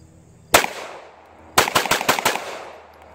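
A CZ Shadow 2 pistol fires at a shooting range: one sharp, loud shot, a pause, then five quick shots in a tight rapid string, each crack ringing out close by.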